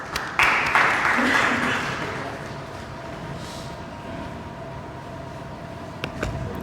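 An audience at an evening poetry gathering bursts into applause to welcome the poet Dr. Shahadat Ali; the clapping starts strong, fades over a couple of seconds, and gives way to a low room murmur.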